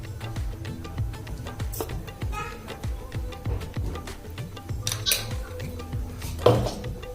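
Raw mutton being mixed with salt and ginger-garlic paste in a metal pot for a Mughlai curry, heard as steady clinking and scraping of a spoon against the vessel, fairly quiet and close, with no talking.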